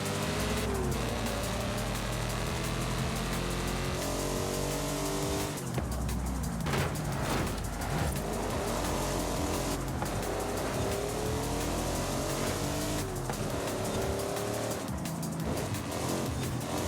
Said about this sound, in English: Damn, listen to that V8.